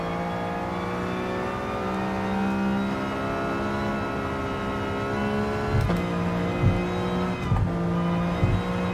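Race car lapping a circuit in Gran Turismo Sport, with a loud, steady engine whine holding high revs throughout, gear changes and brief dips near the end, and no voices over it.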